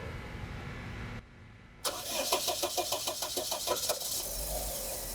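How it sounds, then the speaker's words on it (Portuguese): A car engine cranks and catches on a vehicle being diagnosed for a suspected faulty sensor, starting after a short pause and then settling into a steady, close idle with rhythmic pulsing; no one talks. "Chico, funcione o carro, por favor."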